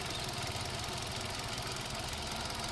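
A used 1.2-litre car engine idles steadily just after starting, a close, even mechanical hum with a faint rhythmic knock running alone throughout.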